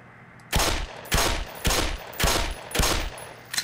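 Gunfire in the Black Mesa video game: five evenly spaced loud shots ring out about half a second apart, each with a short decaying tail. A smaller sixth report comes at the very end, and no one speaks.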